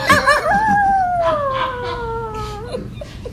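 A person imitates a dog's bark as a drawn-out, howl-like vocal cry with a falling pitch, lasting about three seconds and heard close and alone.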